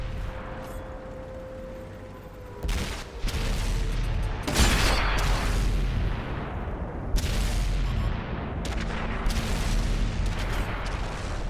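Tank cannon blasts in a World of Tanks console battle with an Object 140 and an E100, heavy booming shots going off one after another over a steady engine rumble, loud and close, with no voices.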